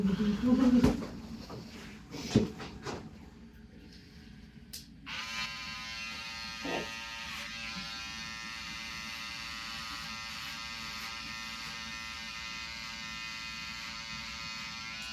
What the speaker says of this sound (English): This is the part that you could use your clipper all the way closed to remove the bulk.